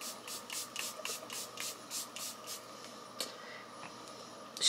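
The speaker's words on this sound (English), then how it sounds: "been loving this airbrush flawless setting spray" Charlotte Tilbury Airbrush Flawless setting spray hisses from its pump in a quick, even run of about ten short bursts, close and faint, with no voices.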